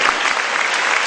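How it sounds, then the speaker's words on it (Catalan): An audience at a folk choir concert applauds steadily, a dense, loud wash of clapping that fills the whole short stretch without pause. "un gran aplaudiment, que ho va fer molt bé"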